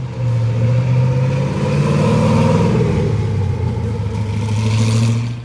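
A 1990 Chevy OBS truck fitted with a Black Widow exhaust revs loudly and close, its deep rumble swelling and falling in a smooth sustained pull.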